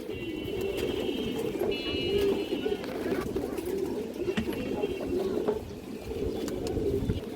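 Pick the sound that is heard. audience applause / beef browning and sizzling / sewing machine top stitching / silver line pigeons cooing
silver line pigeons cooing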